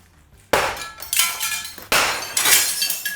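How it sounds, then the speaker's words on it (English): Thick annealed window glass is struck and shatters in two loud, close bursts of crashing, tinkling shards that ring out and trail off. "the glass is a little bit thicker, so we thought, let's go ahead and try breaking it"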